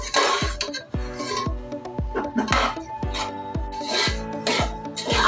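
Semolina (rava) roasting in a pan for pineapple sheera, stirred with a utensil in repeated scraping strokes that ring against the metal, roughly one stroke per half second, close and fairly loud.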